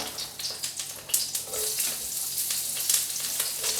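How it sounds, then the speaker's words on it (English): Onion and mushrooms fry in a hot wok for special fried rice, a steady loud sizzle with crackling bursts and a few scrapes of stirring, close and continuous with no talk. "Let's put the onion in. And the mushrooms."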